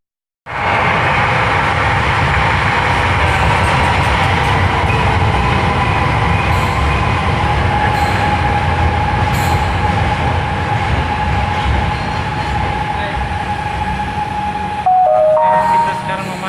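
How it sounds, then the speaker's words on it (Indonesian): A light rail train rumbles into a station in Palembang, Indonesia, rolling steadily past at close range with a continuous loud clatter and a brief squeal as it slows near the end. "Ini kereta yang bentar lagi datang guys."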